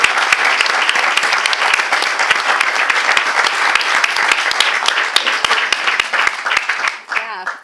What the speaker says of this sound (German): an dieser Stelle vielleicht kurzen Applaus